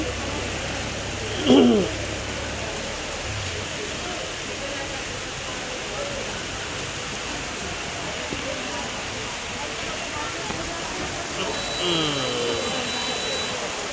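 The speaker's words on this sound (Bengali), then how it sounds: "খুব সুন্দর বৃষ্টি নেমে আসলো" Rain falling on a town street in Chakaria, a steady dense hiss of showers throughout, with a brief passing vehicle sound near the start and faint background noises later.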